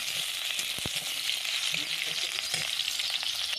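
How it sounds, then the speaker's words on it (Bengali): Chopped onions sizzle in hot oil in a wok, a steady crackling fry with a few sharp clicks and scrapes of stirring over the continuous hiss. "কড়াইতে দিয়ে দিলাম পরিমাণ মতো তেল। তেলটা গরম হয়ে গেছে, দিয়ে দিলাম পেঁয়াজ কুচি।"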